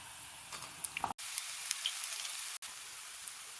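Bitter gourd pakodas deep-frying in hot oil give a steady, fairly quiet sizzling hiss with faint pops, cut by two brief dropouts.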